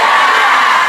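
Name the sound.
audience of women cheering and answering the greeting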